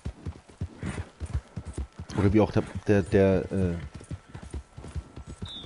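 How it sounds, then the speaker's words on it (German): Horses' hooves clip-clop in Red Dead Redemption 2, a steady rhythmic trot under someone talking loudly in German over the game. "Pferde!"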